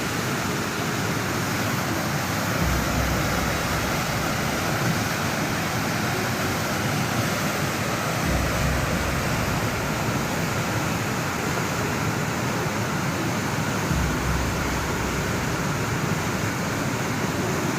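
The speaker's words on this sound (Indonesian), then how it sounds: "Banjir bandang sudah ada ya, banjir bandang." Flash flood river water rushing in a constant, loud, broad roar, unbroken and close, with no voices over it.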